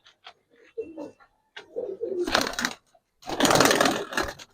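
Giribaz pigeons cooing in a loft, soft low coos in short bursts, with louder broadband flapping or rustling bursts over the second half.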